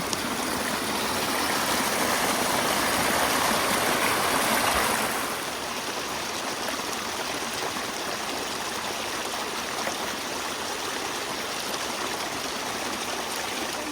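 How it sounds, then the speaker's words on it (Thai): A forest stream in Sweden, swollen by rain, runs down in small cascades with a steady, close hiss of rushing water, louder for the first few seconds and then settling to a softer, even flow. "เวลาพอมีน้ำฝนมันก็จะมี น้ำไหลเป็นชั้นๆ ตรงทางค่ะ"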